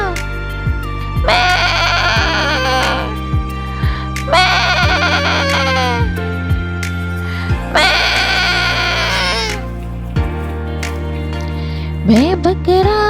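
Several loud, close goats bleat in separate quavering calls, the bleats spread across the whole stretch with a steady bass-heavy children's song accompaniment underneath and no voices.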